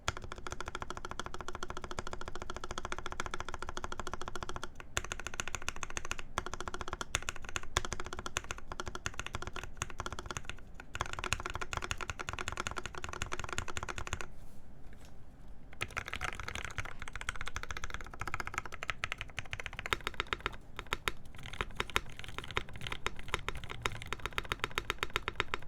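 Rapid typing on a custom polycarbonate SINGA v3 mechanical keyboard, with dense, continuous clacky keystrokes close up, broken by a few brief pauses and occasional louder thocks.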